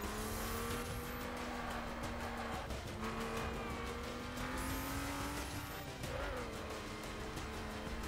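A car in the racing video game The Crew drives at speed with a loud, continuous engine drone, shifting revs and tire squeals over a dense road roar throughout.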